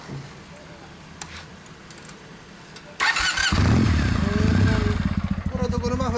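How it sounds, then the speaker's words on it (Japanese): A BMW K1300R motorcycle fitted with a Maverick exhaust fires up after a few quiet seconds, then idles and blips loudly and close with a deep, throbbing exhaust note. "ダブルエンジン音聞かせてもらえますか。"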